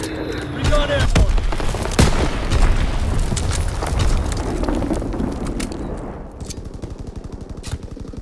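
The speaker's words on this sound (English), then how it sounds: "Dropping Azon bomb" An Azon bomb explodes in the video game Call of Duty WWII, a loud boom amid rapid machine-gun fire and scattered gunshots that fade after several seconds, with a voice speaking over the battle.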